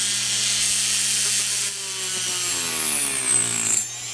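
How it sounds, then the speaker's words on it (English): Homemade cutting machine with a spinning blade, whirring steadily with a loud hiss and tonal hum that dips and shifts in pitch as the blade bites, then settles again. "It's the blade's turning right this time."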